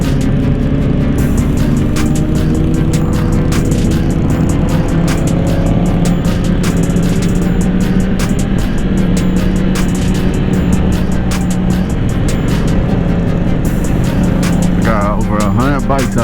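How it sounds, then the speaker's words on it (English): More than 100 motorcycles ride together on a Los Angeles freeway, a loud, close engine drone with shifting revs and wind rush that runs continuously, with a voice briefly near the end. "Got over 100 bikes out here today."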